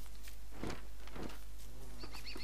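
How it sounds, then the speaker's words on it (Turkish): Bees buzzing in the video game Don't Starve, a few short buzzy bursts over a steady low background hum, with faint high chirping sounds near the end. "Oo arı."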